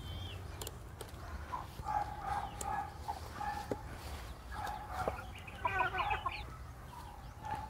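A rooster and other chickens cluck and call in bursts, moderately close, with a dog barking intermittently in the background and no talking.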